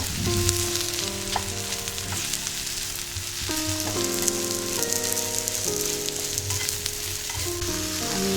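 Mushrooms frying in a pan, with a loud, continuous sizzle throughout under steady background music.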